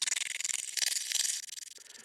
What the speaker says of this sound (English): I put a tremolo on the other track and offset it by 180 degrees.